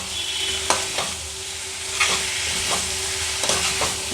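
Raw prawns sizzle steadily in a hot pan for tinda-style chinta chiguru curry, with a constant frying hiss broken by several sharp stirring scrapes and clinks, close and fairly loud with no talking.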